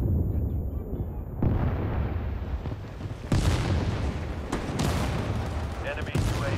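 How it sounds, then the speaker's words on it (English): Enemy artillery fire in the video game World War 3 on the Polyarny warzone map, a dense run of booming blasts and crackling gunfire arriving in loud bursts over continuous battle noise. "Enemy artillery fire incoming."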